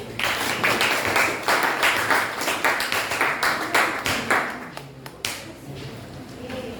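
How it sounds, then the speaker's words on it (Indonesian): Audience applause breaks out after a group's classroom presentation, a dense burst of many hands clapping for several seconds before thinning into a few scattered claps near the end. "Silakan tepuk tangan."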